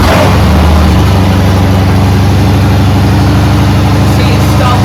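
Engine of a 1980 Bolens HT23 garden tractor started on choke, a loud, close, steady low rumble throughout with an even pulsing idle.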